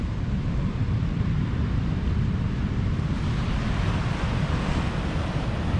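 Waves and wind at a beach on the Mendocino coast form a loud, continuous roar of surf with rumbling wind buffeting the microphone, unbroken and steady throughout with no voices.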